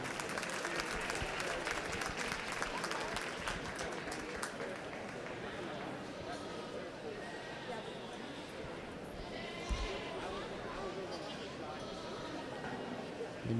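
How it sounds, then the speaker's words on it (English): Crowd applause fills the ring at a youth livestock show goat class, dense steady clapping fading slightly over time, with goats bleating and a voice over a speaker system under it. "Let's give all those kids another big round of applause as they exit the ring."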